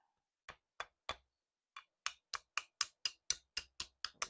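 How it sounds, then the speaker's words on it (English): Hammer tapping a part into a Muncie M20 transmission during a rebuild: a few spaced sharp metallic taps, a pause, then a rapid steady run of about a dozen close, crisp strikes. "I'd have to tap it with a hammer."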